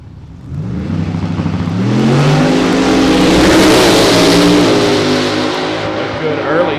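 A drag race car on a solo bye run down the strip at a small-tire 275 event, its engine roaring loud and close, building steadily in pitch and power, with a commentator talking over it.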